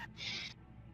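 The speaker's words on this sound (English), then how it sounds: "It sounded like a crow crowing." A single crow-like call used as a sound effect during a tabletop RPG session on a mountain climb, a short bright harsh cry of about half a second, clear and fairly close, with faint table chatter around it.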